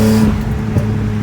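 A BMW E46 M3 engine holds around 4000 RPM from inside the car, a loud, steady, buzzing drone with a strong tonal hum that dips briefly midway, with no talk.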